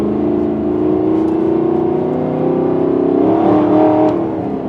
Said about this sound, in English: aftermarket exhaust makes you feel a little bit like driving a hot rod from time to time